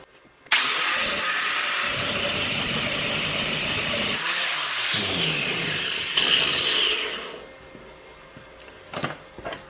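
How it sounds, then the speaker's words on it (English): An angle grinder grinds weld slag off a steel bending jig for nails, a loud continuous high-pitched whine and rasp that wavers as it works, then spins down and stops near the end. "I'm just gonna have to grind this a little more."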